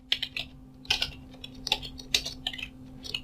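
Rapid irregular typing on a computer keyboard while testing a simple keylogger, with clustered clacky keystrokes at close range over a steady low hum, no talking.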